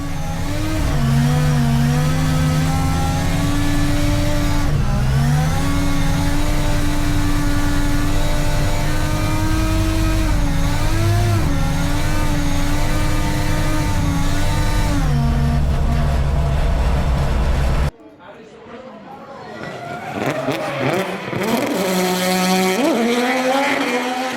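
A big Volvo race car drifts at Silverstone, its engine holding a loud, steady high-rev drone close by, wavering in pitch through the slide, then cutting off abruptly before revving back up.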